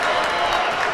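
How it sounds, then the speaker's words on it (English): A basketball crowd roars and cheers at a Raiders home game, a dense, loud wash of voices filling the short moment. "That Raiders crowd is going wild."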